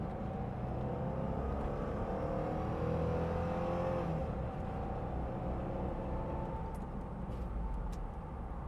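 P38 Range Rover accelerating hard at full throttle, a steady, loud engine drone building in pitch from inside the cabin with no talk over it.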